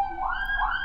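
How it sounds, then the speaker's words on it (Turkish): A siren from an ambulance in a modded Minecraft game wails in two rising sweeps, a steady electronic tone passing close by with no one talking. "Ambulans ne yazık ki evimin içinden geçiyor arkadaşlar."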